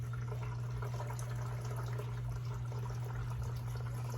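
Quiet, steady stream of water running into a container, heard faintly over a low constant hum.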